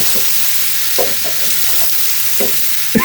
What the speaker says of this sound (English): I'll give this a little stir if I can without ruining everything.